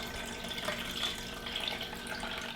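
Buttermilk pours and trickles steadily while being strained out of freshly churned homemade butter, a continuous close watery rush with no talking.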